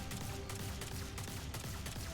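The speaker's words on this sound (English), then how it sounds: "And then yours is just a generic hand cannon MP3." Hand cannon gunfire in the Destiny 2 video game, a steady run of loud, evenly spaced shots repeating roughly every quarter second over a dense, busy background.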